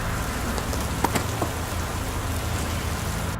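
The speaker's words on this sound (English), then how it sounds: "Los Angeles will be experiencing a 1/4 inch of rain" Steady rain in Los Angeles patters on a surface, a dense continuous hiss with a few louder drops standing out.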